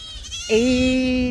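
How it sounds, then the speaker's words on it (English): A goat on a small hobby farm lets out a single loud, close bleat that holds steady for nearly a second, preceded by a faint rustle of farmyard background. "the goats are all being very obnoxious and loud"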